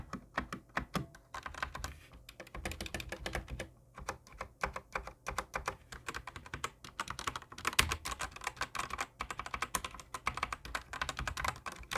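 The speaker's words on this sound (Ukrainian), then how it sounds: "ред свічі в цій клавіатурі, це те, що вони тихі та нажимаються дуже м'яко" Rapid typing on a Hator Starfall mechanical keyboard with Outemu Red switches, soft, muted keystrokes in quick irregular bursts, close up and fairly quiet.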